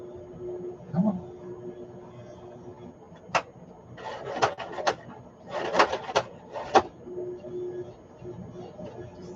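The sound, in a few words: sewing machine struggling to sew junk journal pages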